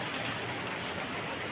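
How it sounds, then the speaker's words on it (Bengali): Heavy rain pouring during a storm, a loud, dense, steady hiss with no distinct drops or talk. "কি জোরে বৃষ্টি হচ্ছে।"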